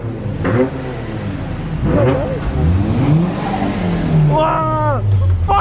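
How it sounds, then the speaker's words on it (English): A right-hand-drive Nissan Silvia S14's engine revs loudly and repeatedly nearby, the pitch climbing and falling with each blip, while people talk over it. "Your car's too loud."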